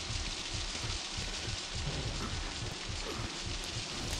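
Heavy rain in the horror video game Outlast, a dense, steady hiss and patter that fills the whole stretch at an even level, with no voices over it.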